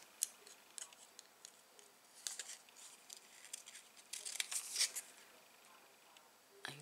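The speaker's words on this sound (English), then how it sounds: "So I am going to cut one of these out." Scissors fussy cutting a piece of paper card for a stamped snowman card, a run of quiet, close snips and crisp paper rustles with soft pauses between cuts.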